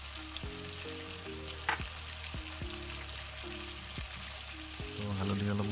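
Chicken pieces with spices sizzling in a hot pan, a steady close frying hiss with occasional stirring scrapes, while a voice speaks softly over it.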